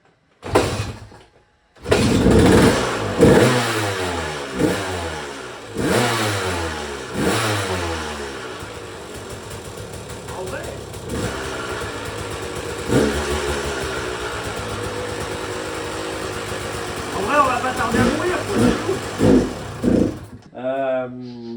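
An old, cheaply bought motorcycle engine coughs into life and revs up and down repeatedly at close range, settling into a rough idle with a few louder bursts, while someone talks over it at times.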